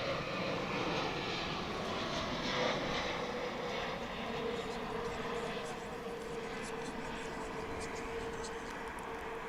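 Airplane passing at DFW International Airport, a steady distant jet engine roar that holds fairly even and faint for several seconds, with a soft voice occasionally underneath.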